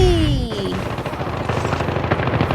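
An AS VAL rifle in the Call of Duty video game fires a loud, rapid, continuous automatic burst that follows a brief whooshing game effect at the start.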